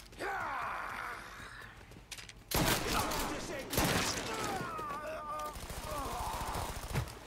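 Gunfire in Mafia 3: loud bursts of rapid shots in several volleys, mixed with grunts and in-game voices.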